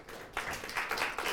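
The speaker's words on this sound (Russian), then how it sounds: "Спасибо. Аплодисменты." Audience applause at a political debate semifinal, a short burst of scattered hand clapping in a hall, moderately faint and uneven, without talk.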